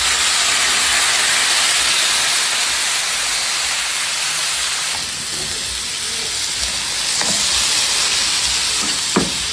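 Pork liver igado, cooked with potatoes, carrots and onions, sizzles loudly in a pan: a steady, dense frying hiss that fills the whole stretch, with a few faint clinks near the end.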